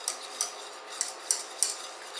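A metal whisk works butter into a beurre blanc sauce, giving faint, light metallic clinks against the pan at an uneven rhythm, about six taps, with no talking.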